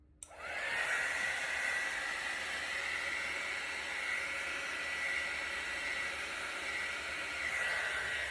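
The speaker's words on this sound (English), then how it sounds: "I'm actually going to blow them out with my heat embossing tool" A heat embossing tool blows hot air over fluid acrylic paint in a ring pour, a steady, close airy roar with a whine that begins abruptly and holds unbroken throughout.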